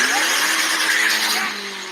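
Turbocharged race car accelerating hard at full throttle, a loud close engine roar with a rising pitch through the first second before the level eases off slightly.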